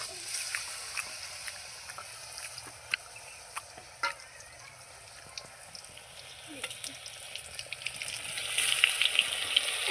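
Battered eggplant slices for beguni fry in hot oil with a steady crackling sizzle, scattered sharp pops and spits throughout, growing louder and busier toward the end.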